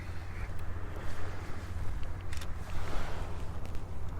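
Outdoor wind buffets a camera on a tripod, a steady low rumbling roar that swells and eases for a few seconds, with no talking over it.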